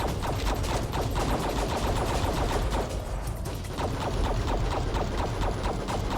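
A rocket barrage special weapon fires in the shooter game CD-ROM Fantasy Chaos Train as a dense, loud, continuous stream of rapid explosive shots with a slight lull midway, and no voices over it.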